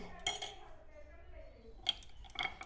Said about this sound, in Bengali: আর একটু দই দিয়ে দেবো আমি মিশিয়ে নেব